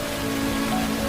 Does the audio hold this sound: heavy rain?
yes